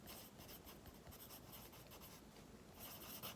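A pencil scratches across paper in continuous strokes while drawing horizontal lines for a beginner warmup exercise, soft and close, with no voices.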